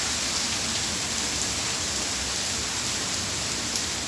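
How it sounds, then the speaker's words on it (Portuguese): Heavy passing rain shower on a morning in Porto Alegre pours down as a steady, loud, dense hiss that stays even throughout, with no clear thunder. "Uma chuva forte agora, trovoadas também."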